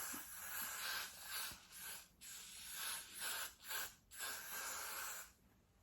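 Hair spray is misted onto a lace wig frontal in several short, soft hissing bursts with brief pauses between them, close and quiet.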